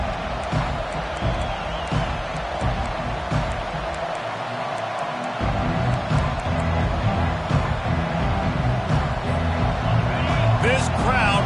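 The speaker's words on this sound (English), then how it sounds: "This crowd bringing an ear-splitting welcome to their visitors." Loud, sustained stadium crowd roar from a football video game, a dense wash of cheering that swells after a brief dip midway, with a commentator talking over it throughout.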